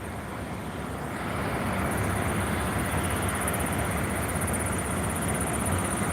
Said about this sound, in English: Second I stop, we got a helicopter landing.